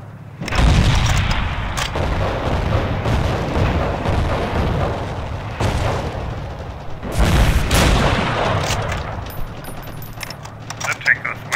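Repeated heavy gunfire from a WWII two-pounder anti-tank gun on Crete in Forgotten Hope 2, with loud booming shots and rumbling bursts recurring across a noisy battlefield mix, a voice talking intermittently beneath.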